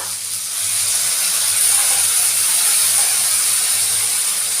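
Ground cumin, coriander, ginger paste and green chili paste mixed with a little water sizzle steadily in hot oil, a loud continuous hiss close up with no talk, for a shrimp and cabbage ghonto.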